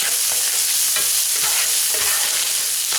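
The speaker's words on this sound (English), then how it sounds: "let's go ahead and mix the two together" Ground beef and vegetables stirred together in a frying pan for a Philly cheesesteak tortellini, with a steady sizzle and the scrape of a utensil moving through the food, close and continuous with no talk.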